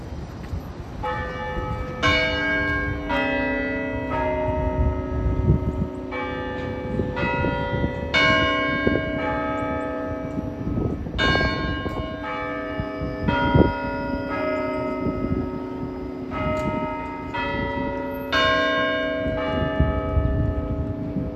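Church bells ring continuously in overlapping, layered peals, loud and resonant, with bright struck tones repeating across the whole stretch over a low ambient rumble.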